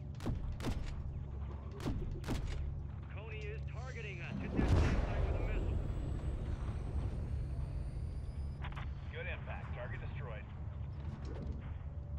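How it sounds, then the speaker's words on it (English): A missile strike hits an enemy SAM site in the Modern Warfare 3 campaign mission, a heavy booming explosion with rumbling aftermath amid gunfire and mechanical game noise, under radio-style voices talking. "Gunner, drop a missile on that Sam site."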